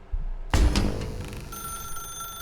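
A telephone rings inside The Stanley Parable: Ultra Deluxe game, a sharp bright ring starting after a brief quiet moment and then fading into a sustained tonal ringing, heard alone without talk.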